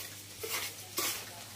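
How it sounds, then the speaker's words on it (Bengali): Puffed rice roasting in a pan at a mill gives a faint, hissing rustle with two brief scraping sweeps, heard alone. "এই দেখেন আমাদের এখানে এখন মুড়ি ভাজছে।"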